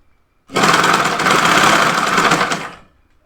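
A sewing machine stitching a smocked off-shoulder dress runs in one continuous burst of about two seconds, a fast even whirring buzz that starts abruptly and tapers off, close and loud with no talk.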